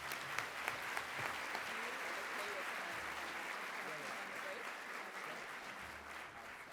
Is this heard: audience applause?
yes